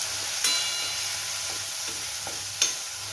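Tomato and onion frying in a pan, a steady close sizzle with a few sharp scraping stirs, no voices.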